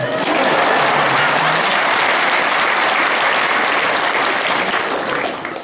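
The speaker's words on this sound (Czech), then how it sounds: "Čekáme na potlesk." A theatre audience at an amateur dramatic society performance applauds steadily and loudly for over five seconds, a dense, continuous wash of many hands clapping that tapers slightly at the end.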